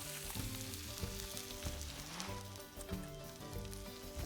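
Garlic bread and baked beans sizzle steadily in a pan over campfire coals at a fishing shore lunch, a close, continuous crackling fry with no talk.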